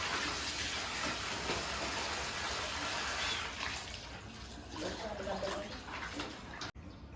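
Winter clothes being rinsed in clean water, with a steady broad wash of splashing and running water close by that thins out near the end, while a person talks over it.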